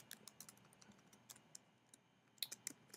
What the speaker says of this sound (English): So here I'm going to type what I want it to say.